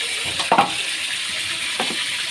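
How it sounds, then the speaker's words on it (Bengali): Chicken meat sizzling and frying in a pan with onions as it is braised down, a steady hiss broken by a couple of brief stirring scrapes near the start and end. "এই যে দেখেন আমার মাংসটা এই যে কষানো হতেছে"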